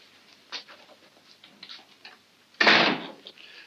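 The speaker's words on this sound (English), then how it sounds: "Go outside and close the door." A door thuds shut once with a short, loud bang late in the moment in a 1940s Sherlock Holmes film scene, after quiet room tone with faint shuffling.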